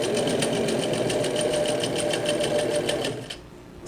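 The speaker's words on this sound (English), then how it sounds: "From here, I'm going to move on to the two side seams." Sewing machine running steadily while stitching the side seams of a pair of summer shorts, a continuous close mechanical whirr with rapid needle clatter that stops near the end.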